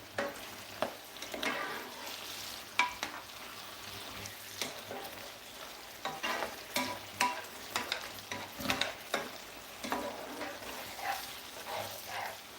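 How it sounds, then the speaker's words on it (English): Pig tail cooks with onions in a pot, giving a soft ongoing sizzle broken by repeated scraping and clattering of a spoon stirring against the metal, fairly close. "we want this to caramelize, the pigtail to soak in those lovely onions"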